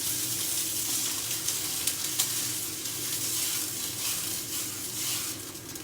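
Steak frying in butter with rosemary and garlic in a pan, a steady soft sizzle and crackle with small spitting pops, close up, continuous and without talk.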